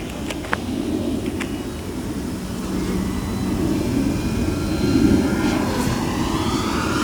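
A Hangar 9 Fun Scale P-47 Thunderbolt RC warbird model airplane on 4S power flies overhead, its motor droning steadily and swelling louder as it passes, heard alone outdoors with faint wind.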